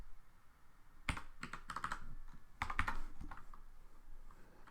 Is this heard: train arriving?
no